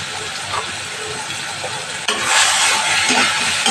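A pan of fish curry with Kashmiri red chili powder hisses and sizzles steadily as it is stir-fried, the frying noise growing louder and fuller partway through.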